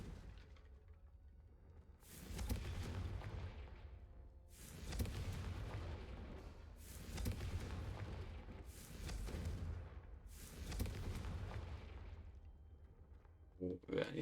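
Confringo fire spell explosions in the video game Hogwarts Legacy, several loud booming bursts roughly every two seconds, each a broad blast that fades out over a low rumble, with game talk underneath.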